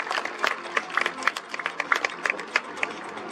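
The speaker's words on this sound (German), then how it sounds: "jetzt nochmal Applaus für die mutigen Mitfahrer" Applause for the ride-along passengers at a monster-truck motor show, scattered and fairly thin, with individual claps popping out of a light crowd patter.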